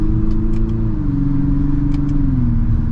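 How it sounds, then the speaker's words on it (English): A 2023 Infiniti QX50 Sport AWD with a 2-liter 4-cylinder engine and CVT pulling forward, a steady droning engine hum rising slightly in pitch inside the cabin, with a few faint clicks and no speech. "I think the 2-liter 4-cylinder is peppy enough to where you can get up and go."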